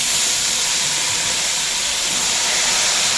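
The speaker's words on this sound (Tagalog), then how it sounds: "Yan guys, ilalagay na po yung repolyo." Cabbage hitting a hot pan of onions for pancit canton guisado, giving a steady loud broadband sizzle that holds evenly throughout without a break.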